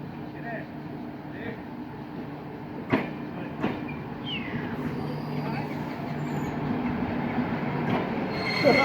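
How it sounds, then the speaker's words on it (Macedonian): A train rumbles along with squealing wheels and a couple of sharp metallic clanks, the noise building gradually toward the end. "ама дојде нов воз со замена за тој"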